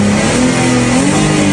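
A restored flood-damaged salvage car's engine runs loud and close, its pitch climbing as it revs, then cutting off abruptly.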